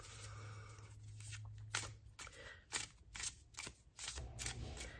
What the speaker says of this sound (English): let's give these a shuffle and see what the cards have to say for today